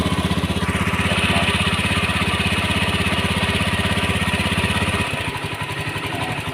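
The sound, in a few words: Honda Beat FI motorcycle engine idling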